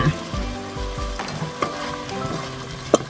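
Mixed vegetables with pork balls and oyster sauce are stir-fried in a hot pan, a loud, close sizzle broken by quick spatula scrapes and a sharp knock near the end.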